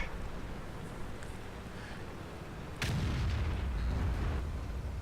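In the tank game World of Tanks, a Waffenträger E100 tank destroyer fires a heavy gun shot: one deep booming blast with a low rumble that lingers after it, set against a constant background battle noise.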